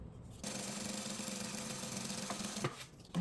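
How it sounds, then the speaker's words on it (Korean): A sewing machine stitches a straight seam 1 cm from the marked line on a hooded fashion outerwear piece, giving a close, steady rapid chatter that starts after a brief pause and stops near the end with a few clicks. "딱 1cm 되게 직선으로 봉제합니다."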